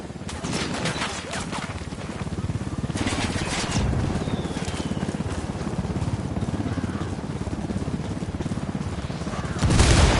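Sustained gunfire in the tactical shooter Ghost Recon, a dense, continuous rattle of rapid shots lasting the whole stretch. Nearby bursts are loud, and a heavier burst lands at the very end.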